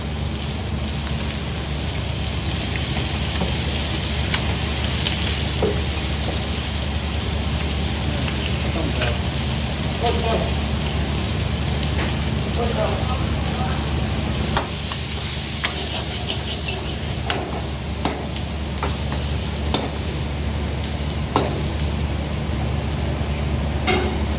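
Onions dry-frying in a restaurant kitchen, a steady loud sizzle throughout with occasional sharp pops and clicks, faint voices underneath.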